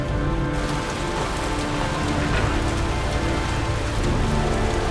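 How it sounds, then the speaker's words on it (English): Steady, dense rain falls in a video game, a continuous broadband hiss of drops on surfaces that stays loud and even throughout with no voices. "I forgot to see how heavy the rain is"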